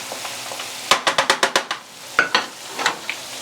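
Plantain pieces sizzling as they drop into hot oil: a quick run of about seven sharp crackling bursts, then a few more scattered spits, close and fairly loud with no talking.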